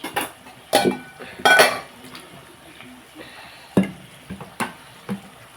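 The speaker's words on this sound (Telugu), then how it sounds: "ఇప్పుడు ఇందులో మనం వంకాయలు వేసుకుని" Eggplant pieces dropped into a pan for a Telugu mashed eggplant curry with green chilli paste, giving a few sharp clinks and clattering thuds with soft rustling between them, close by and moderately loud.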